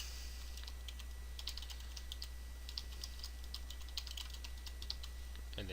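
A new password is typed on a computer keyboard: a quick, close run of light plastic key clicks in short irregular bursts over a low steady hum.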